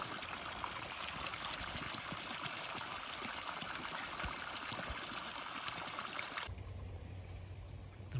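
Water runs through a chinampa canal in a permaculture garden as a steady, faint broadband rush and trickle, with a low hum taking over in the last couple of seconds, and no voices.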